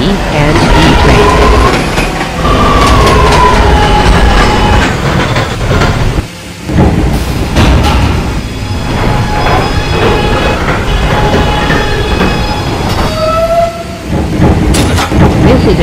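An R211A subway train in Roblox rumbles along with clattering wheels and brief screeching squeals, steady and loud, with short dips in between.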